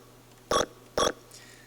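Two short, bright electronic blips about half a second apart, a keypad button sound in a Source SDK game, each sharp and tonal with harmonics, followed by a faint softer tone over a quiet hum.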